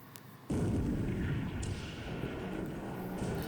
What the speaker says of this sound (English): Oh, 2 heavy 6-inch shells hitting.